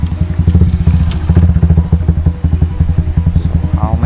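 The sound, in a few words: motorbike passing nearby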